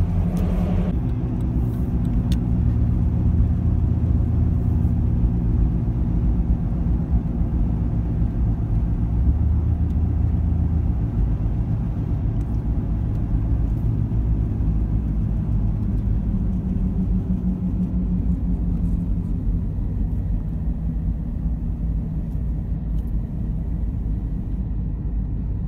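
A car cruises along a highway through Oklahoma, its interior filled with a steady low road rumble and engine drone, unbroken and fairly loud throughout.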